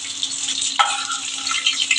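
Winter vegetables fry in a pan of hot oil while cooking vegetable khichdi, giving a steady close sizzle with a sudden stir or scrape partway through, and no voices.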